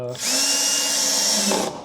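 A power drill driving a screw into wood whirs steadily at close range for nearly two seconds, a high motor whine with a brief strain near the end before stopping.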